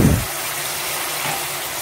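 Water is poured into a pot of fried mutton while cooking achari gosht, a steady close splashing gush that continues evenly for a couple of seconds.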